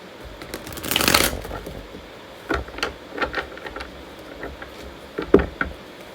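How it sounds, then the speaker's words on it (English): Cards are shuffled nearby, starting with a long riffle followed by several shorter, crisp bursts of card handling. "one more shuffle"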